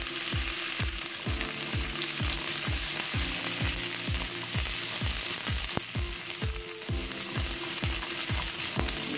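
Sliced carrot rounds sizzle and fry steadily in a pan, with a continuous crackling hiss punctuated by a regular series of low, sharp knocks, close and fairly quiet.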